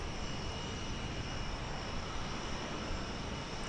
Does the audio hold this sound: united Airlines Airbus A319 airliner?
yes